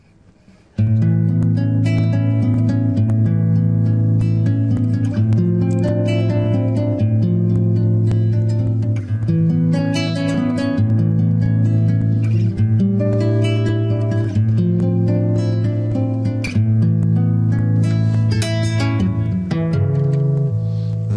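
A rich, sustained major ninth chord rings out on an instrument, held and repeated with notes layered over it for a long, steady stretch without any talking.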